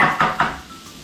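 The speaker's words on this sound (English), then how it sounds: "we're going to put in all the onions so then it'll already be sauteed" Onions drop into a pan to sauté, with two quick clattering hits of utensil on cookware followed by a soft sizzle that fades away.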